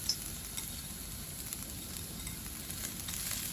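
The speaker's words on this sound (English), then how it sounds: "I'm going to now add the other small onion, which was finely chopped." Finely chopped onion frying in ghee and oil while making tarka daal, a soft continuous sizzle and crackle, close but fairly faint, with no talk.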